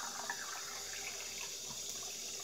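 Water runs steadily from a tap into a sink, filling and rinsing a glass light bulb being made into a terrarium; a soft, continuous hiss and trickle with no talking.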